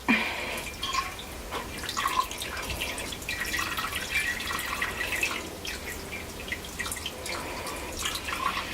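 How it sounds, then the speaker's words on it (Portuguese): Water drips and splashes steadily as wet dyed wool yarn, a 90% acrylic and 10% wool blend, is twisted and wrung out, with no talking over the continuous trickle. "Eu vou torcer isso aqui pra ajudar a tirar um pouco a água."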